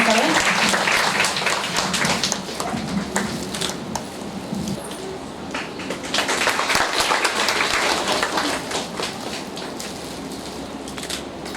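An audience at a women's leadership day event in Chhota Udepur applauds honorees, a long continuous wash of clapping from many people that swells and eases slightly, with faint voices underneath.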